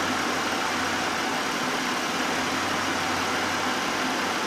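A Buick LeSabre engine idles steadily and close by, a constant even hum with no breaks and no talk.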